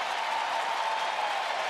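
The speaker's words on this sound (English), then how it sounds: "Standing ovation from some of the fans as Span breaks up the no-no." Baseball crowd in Minnesota applauding and cheering a two-out single that breaks up a no-hitter, a steady wash of clapping and cheers from a distance.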